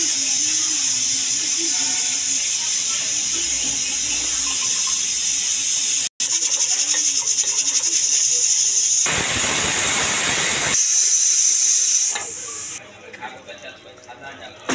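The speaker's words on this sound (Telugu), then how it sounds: "చూడండి ఫ్రెండ్స్, 4 విజిల్స్ అయితే వచ్చాయి." A pressure cooker on the stove, cooking drumstick curry, vents steam in a loud, continuous hiss that swells into a strong roaring burst midway, then drops to quieter sputters near the end.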